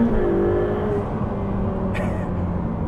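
Ferrari 488 Pista 700+ bhp V8 turbo accelerating hard in second gear, a loud steady engine roar heard from inside the cabin with a rising tone, continuous throughout and without talk.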